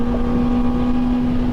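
A steady engine drone with a strong sustained low hum from a Kawasaki ZX-4RR motorcycle with a Graves exhaust, continuous and fairly loud throughout, like idling nearby.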